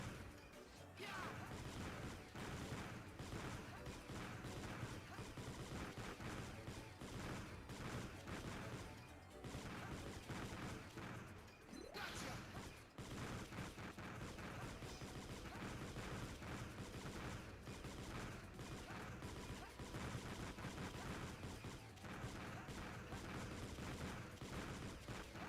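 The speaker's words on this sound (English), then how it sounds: "It's just spam shots everywhere." Shots fire rapidly and continuously in the Mega Man ZX Advent video game, a dense, loud barrage of blasts and impacts layered over busy game music for the whole stretch.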